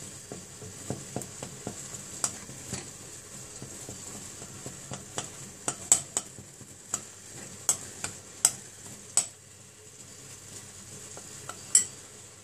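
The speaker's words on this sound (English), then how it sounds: "Now I'm mixing chocolate so it doesn't burn" A utensil stirring melting chocolate in a pan, soft scraping under a faint sizzle with a series of sharp clinks against the metal at irregular intervals, close and fairly quiet.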